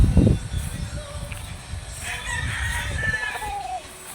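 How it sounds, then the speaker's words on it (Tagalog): Talisay black chickens in a morning yard, a rooster crowing clearly over scattered clucks, with a brief human sound at the start. "Manok talisay. Talisay black."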